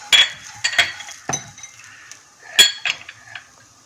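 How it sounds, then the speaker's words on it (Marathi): Peanuts and sesame seeds being stirred and roasted in a pan over a low flame: a few sharp utensil clinks and scrapes against the pan with quiet gaps between them, close by and moderately loud. "यामध्ये शेंगदाणे, तीळ असं परतत राहायचं."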